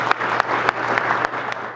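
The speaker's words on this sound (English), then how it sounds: "So I just want to give you guys all a round of applause for being here today," Brief applause from an audience at a graduation celebration and awards ceremony, a short burst of clapping with a few sharper claps standing out, held under a low steady hum.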